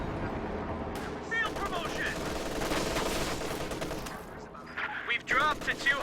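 Rapid machine-gun bursts from an MG34 firing incendiary rounds in the Company of Heroes 2 battle game, dense loud gunfire layered with other battle noise and explosions throughout, with a voice talking over it.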